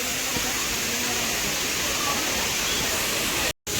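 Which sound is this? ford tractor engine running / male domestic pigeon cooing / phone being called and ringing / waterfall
waterfall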